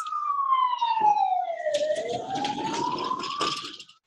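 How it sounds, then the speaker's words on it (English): A single ambulance siren wail falls and then rises again as it passes nearby behind a house, with faint traffic and clatter underneath before it trails off. "An ambulance right behind my house."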